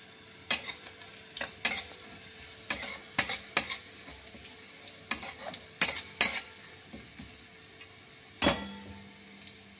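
Panch phoron spice mix frying in hot oil with onion in a pan, a low steady sizzle broken by sharp clinks and scrapes of a spoon against the pan at irregular intervals, no talking.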